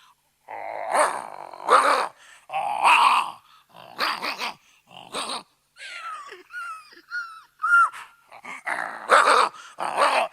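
A man imitates a dog barking and growling in a run of separate vocal bursts with short pauses, spoken to a convention audience in a hall, loud and close.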